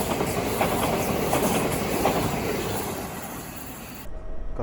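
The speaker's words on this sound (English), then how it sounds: "Got a very busy train out of Kent House." A busy train departing Kent House station in Bromley rumbles and clatters steadily along the rails, loud and close, before the sound cuts off abruptly near the end.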